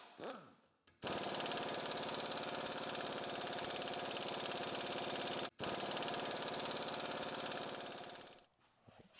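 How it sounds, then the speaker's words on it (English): Air compressor running with its pressure turned all the way up, in a workshop rebuilding tilt cylinders on a Case 1840 loader: a steady loud mechanical drone that starts abruptly, cuts out briefly midway, then resumes and winds down, with no speech. "I just cranked the air pressure all the way up on my air compressor."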